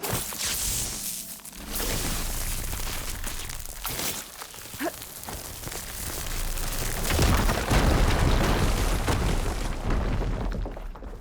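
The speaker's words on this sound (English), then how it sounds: "Now that I have the igniter, I can get rid of that fire gleam." Fire gleam blown apart with an igniter in the game Horizon Forbidden West, a loud, dense rumbling blast with crackling bursts that swells and holds through most of the stretch before tailing off.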